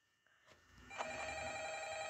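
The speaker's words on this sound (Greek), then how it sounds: "Ποιος με παίρνει τηλέφωνο πάλι, έλα ρε Γιώργη." In the video game Five Nights at Freddy's, a telephone rings, starting faint after a few soft clicks and then holding as a bright, sustained electronic ring that grows steadily louder.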